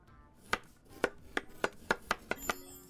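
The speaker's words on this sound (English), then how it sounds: "Chop this up, right?" Food is chopped on a board in the restaurant video game Chef Life. Eight crisp knife strikes come in a fairly even rhythm that quickens toward the end, close and clear with nothing else over them.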